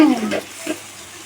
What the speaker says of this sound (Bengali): এখন অনেকগুলো পাস্তা রান্না করা হচ্ছে